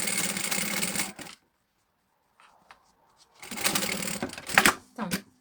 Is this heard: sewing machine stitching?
yes